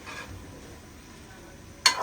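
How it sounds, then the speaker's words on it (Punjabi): Onions fry in a pan with a soft, steady sizzle. A utensil stirs quietly, and a sharp clink against the pan rings out near the end. "ਪਿਆਜ਼ ਜਿਹੜਾ ਵਾ ਨਾ ਉਹ ਵੀ ਮੈਂ ਨਾ ਥੋੜੀ ਦੇਰ ਲਈ ਫਰਾਈ ਕਰਾਂਗੀ"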